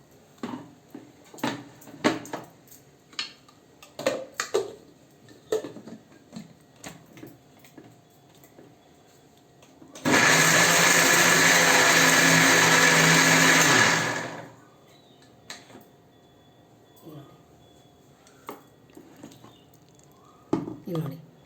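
A mixer grinder whirs at full power, grinding food in its jar for about four seconds as a loud, steady burst, then cuts off; quieter clicks and handling noises come before and after.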